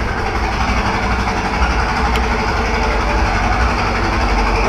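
A carbureted motorcycle engine idles close by, a steady, rough low-pitched rumble that holds evenly throughout without revving and with no talk.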